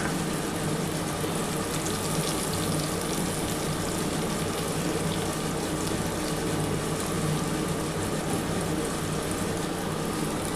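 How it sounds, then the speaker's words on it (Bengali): A little water poured into spice paste for a hilsa fish and eggplant curry, a steady, dense rushing hiss that runs unbroken throughout at close range, with no talking. "একটু সামান্য জল দিয়ে ঢেলে দিচ্ছি।"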